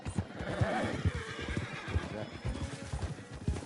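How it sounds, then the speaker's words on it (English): Wild horses in the video game Red Dead Redemption 2 whinny and snort amid a busy rumble of hooves in woods, with a voice speaking briefly over the commotion. "I think we just scattered a bunch of horses in the woods."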